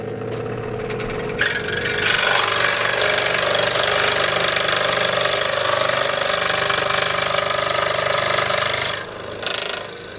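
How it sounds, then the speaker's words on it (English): An Einhell TC-SS 405E scroll saw running at maximum speed while it cuts 10mm plywood, giving a steady loud buzzing, rattling drone that holds for about ten seconds and then eases off near the end. "So this is maximum speed."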